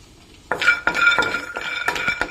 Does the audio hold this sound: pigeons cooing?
no